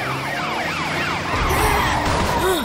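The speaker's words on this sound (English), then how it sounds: "Can you hear that? It's Matilda Robot's siren" A wailing siren sweeps up and down repeatedly, loud and continuous, with a second lower wail joining partway through.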